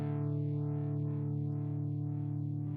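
Electric guitar played through a Univibe-style modulation effect on a Spark amp, a sustained distorted chord sweeping in a steady throbbing phase pulse about twice a second, loud and up close with no talking.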